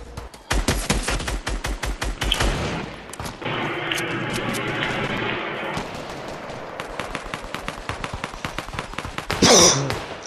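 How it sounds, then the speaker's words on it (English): Fortnite gunfire comes in rapid automatic bursts of sharp shots, then a steadier rushing stretch, then more spaced shots and a loud final blast, all close and dense with no talking. "Some people are shooting me through walls now"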